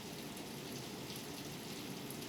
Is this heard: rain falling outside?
yes